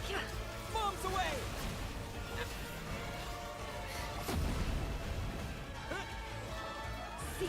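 Bomb attack in the Genshin Impact fantasy action game, with several heavy booms and crashing impacts spread through the stretch, loud and dense, mixed with game effects and voices speaking over them.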